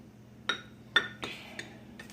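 A metal spoon clinks against a bowl while mixing dry biscuit ingredients: four or five bright, separate taps at uneven intervals, close and clear in a quiet kitchen.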